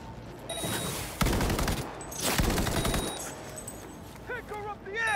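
Bursts of automatic gunfire in the video game Cyberpunk 2077: Phantom Liberty, two loud sustained volleys under game voices and music, with warbling electronic effects near the end.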